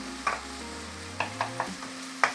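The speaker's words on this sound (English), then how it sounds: "First, let's brown the meat, break it up into small pieces," Meat browning in oil in a frying pan for Japanese mapo nasu, a low steady sizzle broken by several sharp scrapes and taps as a utensil stirs and breaks up the meat.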